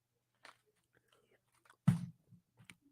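Crunchy sour candy with a chewy center being chewed close to the microphone, a few faint scattered bites followed by one louder crunch near the middle and softer chewing after, in an otherwise quiet room.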